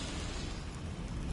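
A Confringo blasting spell goes off inside a goblin mine in Hogwarts Legacy, a dense, rumbling burst of broadband noise that fills the whole moment, loud and close with no talk over it.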